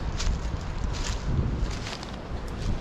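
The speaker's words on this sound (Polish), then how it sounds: "Wiatr dmucha," Steady autumn wind rushing and rustling through forest trees, a continuous broadband whoosh with gentle swells and no voices.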